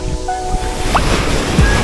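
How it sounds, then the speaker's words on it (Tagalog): Strong ocean waves wash loudly onto a beach at Boracay in a steady, close roar of surf, with no voices over it. "Lakas ang alon."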